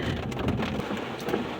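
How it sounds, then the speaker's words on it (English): Heavy rain falls at night on a city street, heard from inside a car as a dense, steady patter and wash over a low rumble, loud and continuous with no voices. "You can tell somebody else is having a really bad storm when it starts raining heavily here."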